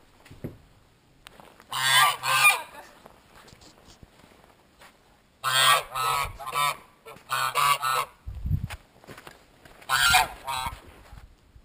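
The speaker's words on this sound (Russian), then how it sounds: "Это страшные, страшные гуси." Loud geese honking in several bursts with quiet gaps between, close by, in Karelia; a faint voice and some rustling in the pauses.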